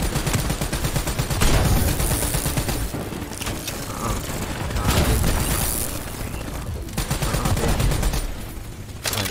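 Dense gunfire and turret shots in a Call of Duty Black Ops 3 campaign battle, loud continuous bursts and booms layered through the whole stretch with scattered combat noise and no pauses.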